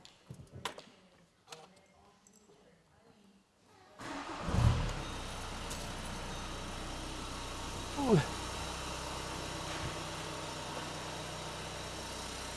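A VW car engine with its DPF system removed cranks and fires up after some quiet handling noises, then settles into a steady idle with a brief rev midway, while someone talks over it.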